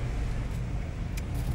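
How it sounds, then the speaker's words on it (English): Car wash setting with a steady, close low rumble of machinery and vehicle noise filling the whole stretch, a brief hiss rising once near the end. "I'm at the car wash"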